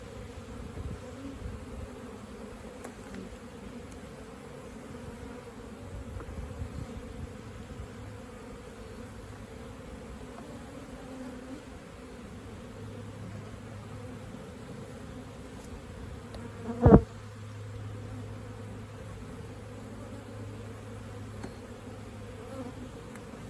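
Honey bees from an open, queenless hive drone in a steady, faint, continuous buzz close by, with one sharp brief knock partway through and no talking.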